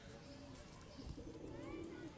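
A pet pigeon gives a low, rolling coo close by, under a voice talking.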